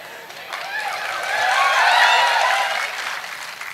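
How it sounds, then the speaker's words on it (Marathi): Audience applause fills a live stand-up comedy show in a Marathi comedy special, a dense crowd clapping that swells to a peak midway and then eases off, with no talk over it. "तुम्ही हृदयावर दगड ठेवून टाळ्या वाजवल्यात हे मला माहिती आहे."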